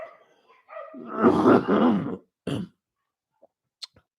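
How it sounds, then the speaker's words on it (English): A dog lets out a short run of yips and a longer throaty growl-bark, followed by a single sharp bark and a couple of faint clicks. "Sorry if you hear yelping in the background."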